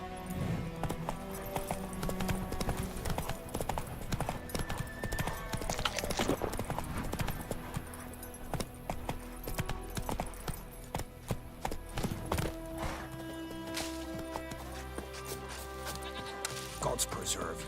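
Roach the horse galloping in The Witcher 3, a quick rhythmic clip-clop of hooves running throughout, layered with game music and ambience, with brief voices in between.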